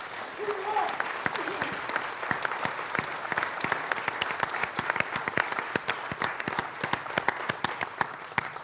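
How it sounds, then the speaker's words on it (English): A room of people claps for event volunteers, sharp individual claps standing out over a steady round of applause that continues for several seconds. Faint talk is mixed in. "Let's give them a round of applause,"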